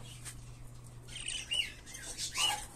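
Frillback Hagoromo birds chirp inside a flying cage, giving short bright calls and squawks in scattered bursts, with a couple of clearer whistled notes near the end over a steady low hum.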